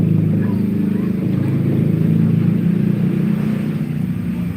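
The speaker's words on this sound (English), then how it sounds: "That's a motorcycle you hear." A motorcycle passes on a street in Pattaya, Thailand, its engine a loud, steady, low rumble throughout without talk.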